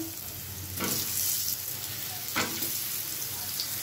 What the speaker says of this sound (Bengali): পাঁচফোড়ন দিয়ে দেবো, দিয়ে এবার আলুটা একটু ভেজে নেবো